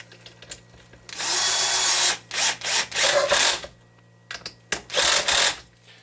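A power drill tightens screws on an HPI Baja SS RC car, whirring in several short bursts of varying length separated by quiet pauses, close and fairly loud.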